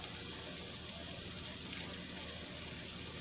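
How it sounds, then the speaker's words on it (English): Bacon sizzles in a pan as a steady, dense hiss that stays even throughout with no voices over it. "We're gonna cook this bacon up"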